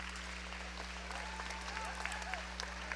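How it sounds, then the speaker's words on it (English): Faint, distant audience applause at the 4-H swine showmanship show of the 2023 Tippecanoe County Fair, a soft continuous patter over a steady electrical hum. "Let's give a big round of applause to this guy right here."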